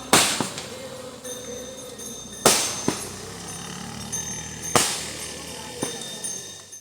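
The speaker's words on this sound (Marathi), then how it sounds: "हे बघा फटाके घरी लावल्या ना नक्की" Firecrackers burst outdoors during a Ganesh immersion procession in Konkan, India: several sharp loud bangs spaced a second or two apart, each with a short ringing tail, over a steady crowd background.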